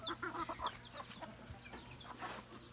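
Hens in a farm coop in the Philippines, including Rhode Island hens that have just laid eggs, give soft, irregular clucks and chirps over a steady low background hum, close and fairly quiet.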